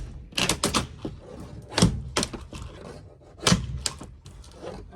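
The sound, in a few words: removing staples from popup camper roof with small crowbar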